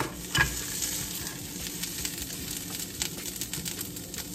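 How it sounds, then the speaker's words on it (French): Crabs sizzle as they grill in a preheated frying pan, a steady close crackling hiss with a sharp clatter near the start as they go in. "maintenant, je vais mettre les crabes à griller"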